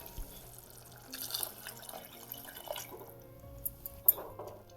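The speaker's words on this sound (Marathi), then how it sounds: "आता ही गरम पाणी ठेवलेलं आहे ती मी एवढं ओतणार आहे" Hot water splashes and trickles into a pot of matki (moth bean) curry close by, with drips and a gentle pouring stream; no voices.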